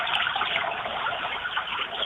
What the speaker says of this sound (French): Mais ça c'est un petit ruisseau qui est tous les jours comme ça